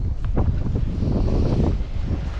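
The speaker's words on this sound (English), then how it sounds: "Didn't expect to get anything today because the wind's just so terrible." Heavy wind buffets the microphone on a Gold Coast shoreline during a fishing trip, a loud, constant roaring rumble with surf-like gusts and no talking.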